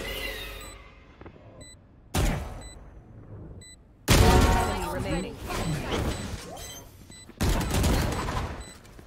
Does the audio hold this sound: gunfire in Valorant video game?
yes